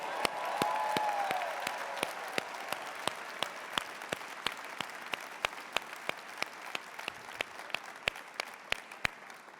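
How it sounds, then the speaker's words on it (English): A public speaking championship audience gives a round of applause: a broad, soft wash of many hands with sharp individual claps standing out at a fairly regular pace, tapering off gradually. "Let's give them a round of applause."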